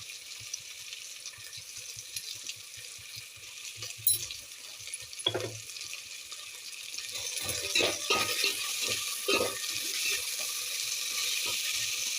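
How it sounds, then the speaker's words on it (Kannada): Onions sizzling in a pan just after salt goes in, with soft stirring scrapes and watery hiss that thicken toward the end; no voices. "ಉಪ್ಪು ಜಲ್ದಿ ಹಾಕೊಂಡ್ರೆ ಚೆನ್ನಾಗಿ ಈರುಳ್ಳಿ ಜಲ್ದಿ ಬೆನಿತೈತ್ರಿ."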